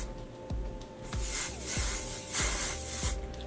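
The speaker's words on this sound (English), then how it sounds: "go ahead and spray just a little bit on the sides" Hairspray misted onto the sides of hair in several short, close bursts, each a sharp airy hiss with a soft pause between them.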